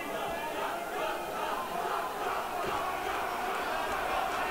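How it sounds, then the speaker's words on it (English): A crowd at a Fight UK boxing event roars and cheers continuously in support of a fighter, a dense, sustained wash of voices heard from within the arena. "As the crowd start to get behind John Robinson, clearly got a lot of supporters in him"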